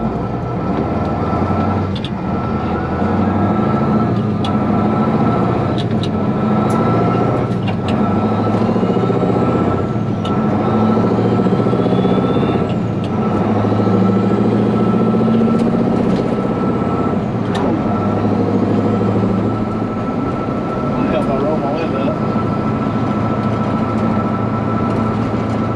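A Ford L8000 truck drives down the road, heard from inside the cab as a loud, steady engine drone with road rumble and occasional clunks and rattles throughout.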